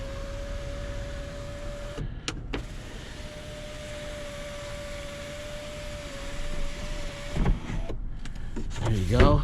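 A 2013 Toyota Highlander Limited's power moonroof motor hums steadily for several seconds with a thin whine, broken by a couple of clunks, with people talking around it inside the car.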